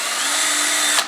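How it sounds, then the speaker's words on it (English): A power drill whirs continuously and loudly while boring a small pilot hole near the base of a pipe, winding down at the end. "I'm just going to drill a little pilot hole right near the base, but not too close, obviously, of this pipe."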